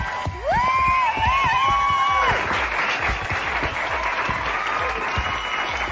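A crowd at a stage show applauds and cheers candidates called up onto the stage, steady dense clapping filling the whole stretch, with a high rising whoop near the start and scattered shouts over the applause.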